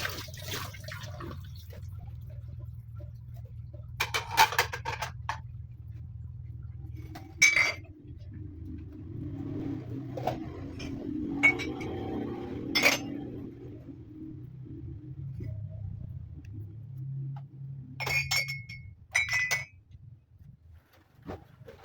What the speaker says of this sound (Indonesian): dari step-step akhir aku cuci piring